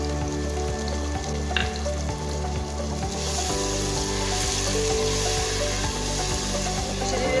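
Tomato paste frying in a pan for mutton palak (spinach mutton curry), a loud steady sizzle up close with scraping stirs and a strong mechanical hum underneath.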